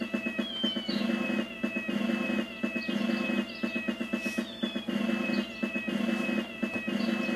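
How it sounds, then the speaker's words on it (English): Cats meowing repeatedly in a steady rhythm, about a dozen short high-pitched calls over a constant low background hum, some chirpy bird-like sounds mixed in, fairly faint and continuous. "Ah, there go the cats."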